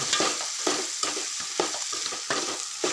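Fresh turmeric sizzles as it is stirred while frying in a pan for a turmeric shaak. Close, busy frying hiss with rhythmic scraping strokes about twice a second, and no voices.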